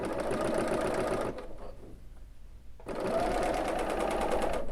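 Bernina L850 serger stitching quilt fabric at half motor speed, a steady close whirring hum that stops for about a second and a half in the middle, then resumes at full strength.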